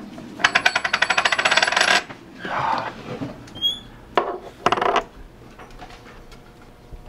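A series of coins dropped one after another onto a hard surface to test whether they are genuine or fake, giving a rapid run of bright metallic clinks followed by a few separate drops and rings, close and clear with no talk.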